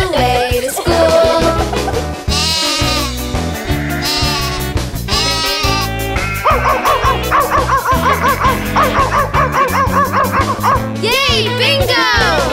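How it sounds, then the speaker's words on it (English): A cartoon dog in a Wheels on the Bus nursery rhyme barks in a rhythmic series of woofs over bouncy children's music, with sung vocals running throughout. "The dog on the bus goes woof, woof, woof"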